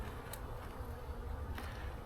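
Honey bees buzz steadily around an opened hive during a spring inspection, a soft continuous drone of many insects close by with no voices over it.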